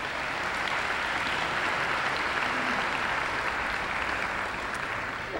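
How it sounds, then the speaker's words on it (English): An audience at a community awards ceremony applauds in a dense, sustained burst of clapping that holds at an even level throughout. "Please give them all a round of applause"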